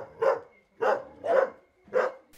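Stray dogs in a Bhutanese town bark four times in an evenly spaced series, moderately distant and alone with no talk.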